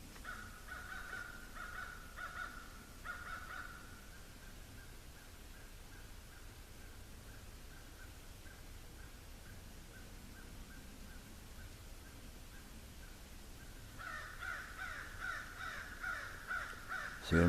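A crow caws repeatedly in short rhythmic series at the start and again near the end, moderately distant over quiet outdoor background.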